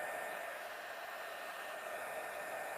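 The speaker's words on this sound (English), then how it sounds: "this dryer is super powerful, I really don't want this to heat up on her scalp" Powerful 850-watt hair dryer blowing in a steady, loud broadband rush that holds constant for the whole stretch, close and alone with no talk.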